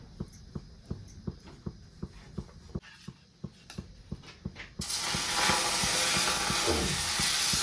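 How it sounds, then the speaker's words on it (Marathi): Sabudana and barnyard millet batter poured onto an oiled griddle, a loud sudden sizzle that starts midway and continues as a steady hiss, preceded by a regular series of quiet mechanical clicks. "तेलावर शाबू भगरीचं पीठ सोडून घेतलेलं आहे"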